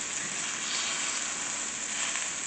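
Bacon-wrapped scallops searing in a pan on low heat give off a soft, even sizzle that holds steady from start to finish, close by and fairly quiet, with no voices.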